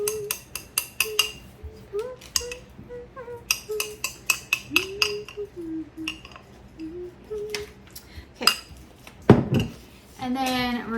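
No-bake oat ball ingredients mixed in a bowl, with a rapid run of bright clinks and taps of a spoon against the dish, close and irregular, and a voice speaking over parts of it.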